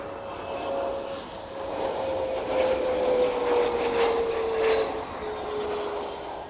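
A cargo aircraft descends on approach toward the runway at East Midlands Airport in the evening, its steady engine drone building slightly louder as it passes near, with a sustained tonal whine over broadband roar and no voices.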